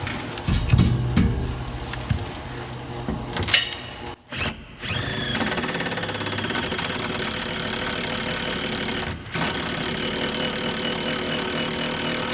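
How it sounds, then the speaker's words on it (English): A power drill drives self-tapping screws into a vehicle heat shield, making a loud, sustained whirring with a couple of brief pauses, close by in a noisy garage. "We're gonna put 4 self-taps in it for now"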